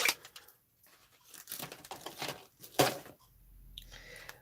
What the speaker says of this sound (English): Let's do a bit more trimming.